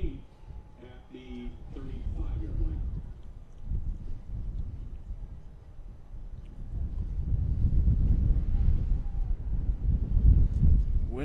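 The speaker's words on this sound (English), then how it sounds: "Wind picking up again." Wind gusts across an outdoor high school senior boys football game, St. Joe's vs Cardinal Carter, a low steady rumble that swells louder toward the end, with a faint voice at the start.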